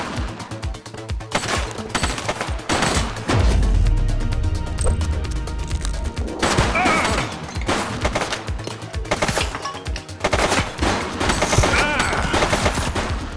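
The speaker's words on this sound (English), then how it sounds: "He's shooting!" Rapid bursts of automatic gunfire and single shots crack through a police shootout in The Precinct, loud and dense throughout with brief lulls between volleys.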